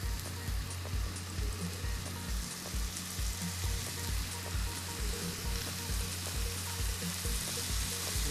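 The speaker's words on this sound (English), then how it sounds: "I'm going to fry up the steak." Steak frying in a hot pan, a loud steady sizzle with crackling spatter and a faint regular low thump beneath, close up and with no talk.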